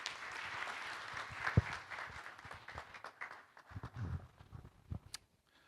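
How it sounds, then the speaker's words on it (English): A budget breakfast audience at a hotel gives the team a round of applause, fairly faint and uneven clapping from a room that tapers off into scattered claps and shuffling noises. "A big round of applause for the team here."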